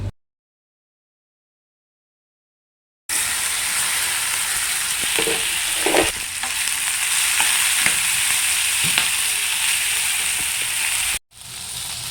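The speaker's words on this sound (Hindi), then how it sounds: "उसके बाद हम कढ़ाई में चढ़ाएँगे तेल और इसको पकाएँगे" Spiced masala mixture cooking in hot oil in a kadhai, a steady loud sizzle and fry that carries on for several seconds after an opening silence, with a few soft stirring scrapes; close up, no voices.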